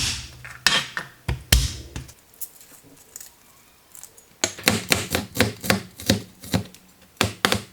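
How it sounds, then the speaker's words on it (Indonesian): Garlic chopped with a knife on a board in a home kitchen, sharp repeated knocks in bursts, a quicker steady run of chops after a short pause, close and clear with no talk. "Kemudian aku mau chop si bawang putihnya."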